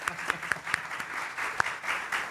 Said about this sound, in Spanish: Un aplauso, señores, para un soberano.